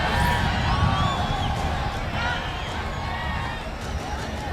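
A dense crowd packs a DMK leader's election rally in Coimbatore, a steady loud roar of many voices with cheers and whistles, while amplified speech carries over the din.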